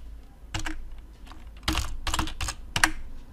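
Fingers tap a computer keyboard in several short, uneven bursts of close, crisp key clicks separated by brief pauses.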